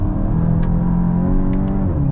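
2023 Volkswagen Golf GTI accelerating hard on the road, a steady droning engine note with layered harmonics that holds strong and even, heard from inside the car with no talk.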